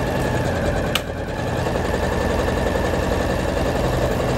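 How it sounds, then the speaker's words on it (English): A sewing machine runs steadily as it back stitches fabric for a shoe bag, a fast continuous mechanical chatter held at an even level for several seconds with one brief sharp click near the start. "And back stitching when we reach the end"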